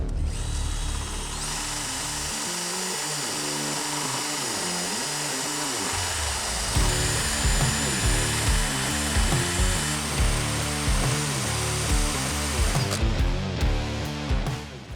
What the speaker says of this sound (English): We're gonna go ahead and shave all those down so that it's nice and smooth.